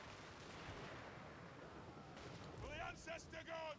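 Rapid, dense battlefield gunfire from massed units in Total War: Warhammer 3, a continuous crackling barrage that swells slightly toward the end while a voice talks over it.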